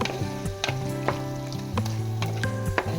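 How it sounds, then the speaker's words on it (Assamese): Jackfruit masala with vegetables frying in oil and being stirred: a close sizzle under a few sharp spoon knocks and scrapes, with a steady tonal hum beneath. "চব্জিখিনি ধুনীয়াকৈ লৰাই দিম।"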